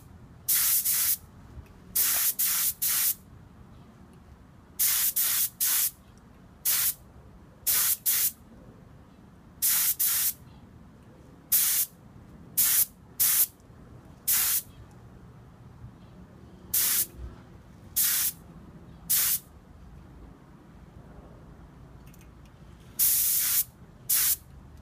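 Short bursts of spray paint coat a metal muzzle brake, roughly twenty quick hissing pulses in an irregular rhythm with brief pauses between them, close and fairly loud with no talking.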